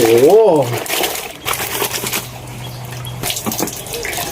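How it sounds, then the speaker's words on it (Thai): Water poured out of a basin while trousers are hand-washed, a steady splashing and running flow close by, with a voice talking over it. "เทน้ำออกครับ"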